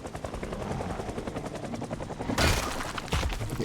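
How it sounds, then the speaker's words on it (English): A helicopter in the video game Project Zomboid flies overhead, its steady rotor drone holding throughout and swelling louder near the end with no talk over it. "there's a helicopter running around"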